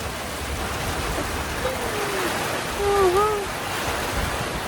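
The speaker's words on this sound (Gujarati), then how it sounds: "ઓચિંતાનો જોરદાર વરસાદ આવ્યો" Steady, loud rushing rain fills the air with a broad hiss, while a few faint bird chirps sound in the background.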